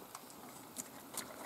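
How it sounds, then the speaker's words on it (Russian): Steady rain patters on a boat's covering while drifting on a taiga river, a soft continuous hiss with a few brief louder drips, faint and without any talking. "Дождь все еще усиливается."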